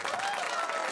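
A comedy show audience gives a brief burst of applause, a dense, even wash of clapping with crowd noise lasting about a second.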